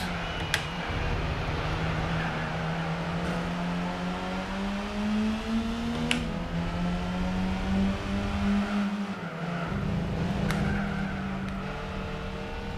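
A car sliding its rear end around a track in Gran Turismo 4: a steady, loud engine drone with slowly shifting pitch, a few brief ticks and a short dip as the revs fall, without any voices.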